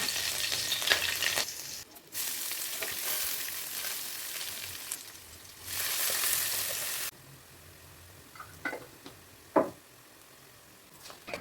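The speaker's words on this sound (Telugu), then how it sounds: "కరివేపాకు పచ్చిమిరపకాయలు ఎర్రగడ్డలు నూనెలో వేసి బాగా వేయించాలి" Curry leaves, green chilies and onions fry in hot oil for a mutton curry, a bright steady sizzle that rises and drops in loud bursts as the pan is stirred, with light spoon knocks and no voices.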